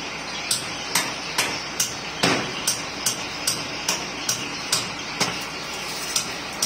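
Sharp metallic clanks repeat at a steady rhythm, about two per second, each a hard ringing strike of a crowbar on iron at close range while removing a tree stump.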